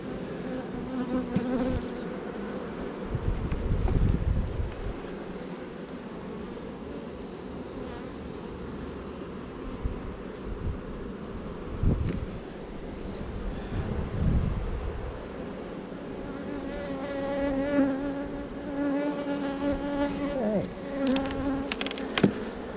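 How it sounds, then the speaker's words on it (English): Honey bees buzz around an opened hive during swarm cell removal, a dense, continuous hum with individual bees whining close past. Occasional wind gusts and handling knocks come through underneath. "There's these bees out the way."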